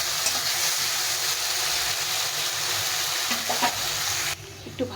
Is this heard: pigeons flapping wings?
no